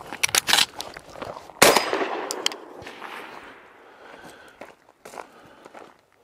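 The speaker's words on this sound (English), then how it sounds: "I wanna engage that first target, okay, on the move, and then while I'm moving, go ahead and do a quad load and engage that second target." A shotgun fires at targets on the move during multigun training with a quad reload, giving a quick burst of sharp outdoor reports, another loud blast and then fainter clattering and handling noises.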